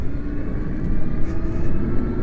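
48-volt electric bike riding on a road, a loud rushing wind and tyre roar with a faint motor whine underneath, steady and close throughout.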